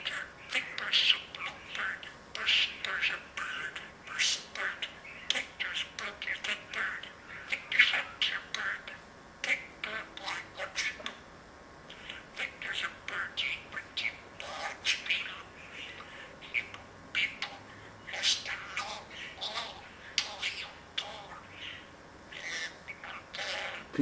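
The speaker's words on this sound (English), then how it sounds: "What's the bird telling Victor?" Slowed-down bird calls form drawn-out squawks and chirps in irregular bursts throughout, with a voice talking over them.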